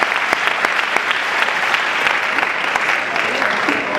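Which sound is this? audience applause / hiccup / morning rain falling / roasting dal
audience applause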